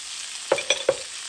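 Onion dropped into about four tablespoons of melted butter over medium-high heat for chicken pot pie: a brief sizzle with three quick utensil clinks in close succession, over a soft background hiss.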